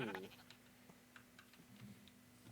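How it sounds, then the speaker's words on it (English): Sheep in the video game Minecraft let out a single short, nasal bleat at the very start, followed by faint clicks and light background noise. "Come back here, sheep."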